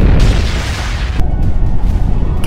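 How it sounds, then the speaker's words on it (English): An atomic bomb detonation, the first Soviet test: a loud, sustained low rumbling boom that fills the whole clip, with a sharp crackling burst near the middle and another toward the end. "the Soviet Union detonated their first atomic bomb"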